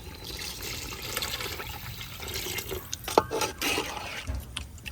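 Water poured into a cooking pot of fried, browned spices for a village-style white pulao, a steady close rushing splash with a brief bright sloshing burst near the end and no talking.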